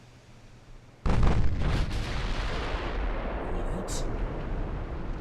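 Heavy 8-inch naval guns firing in the Ultimate Admiral: Dreadnoughts warship game, a sudden loud booming blast followed by sustained rumbling roar and scattered further reports, with a voice speaking briefly over it.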